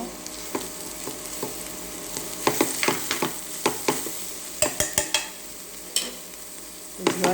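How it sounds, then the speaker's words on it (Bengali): Mixed vegetables with carrot and a spoonful of ghee are stirred in a pan: a low sizzle underlies a run of distinct spatula scrapes and knocks, irregular and close, without speech. "এখন আমি এই ভাজিটাকে ঘন ঘন নেড়ে ছেড়ে দিব"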